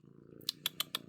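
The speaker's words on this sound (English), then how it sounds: "My cat is kind of giving me some love right now." A pet cat purring close by, a soft low rumble, with four sharp clicking bursts in quick succession over it; no one speaks.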